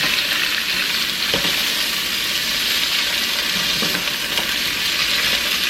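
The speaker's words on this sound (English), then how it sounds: "Listen to that sizzle." Italian sausage with peppers and onions sizzles steadily in a pan, a close, bright crackling hiss that runs continuously with faint stirring scrapes and no talk.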